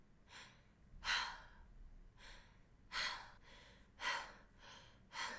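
A video game character runs at low health, breathing heavily in a steady cycle of loud, close gasps and huffs, roughly one strong breath each second, with softer breaths between.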